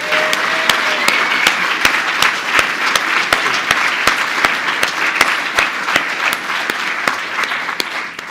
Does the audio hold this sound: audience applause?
yes